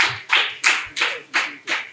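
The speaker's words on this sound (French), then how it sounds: "Est-ce qu'on peut applaudir pour Monsieur Adokonou" Scattered applause from a small audience at a French-language talk on logistics: about six separate clapping bursts in quick succession, fairly close, with no talk over them.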